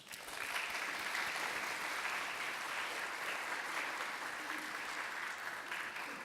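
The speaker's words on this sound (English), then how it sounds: "let's give them a round of applause" Sustained audience applause in a conference hall at an international peace conference at UNESCO in Paris, an even, full round of clapping heard from a distance that cuts off abruptly at the end.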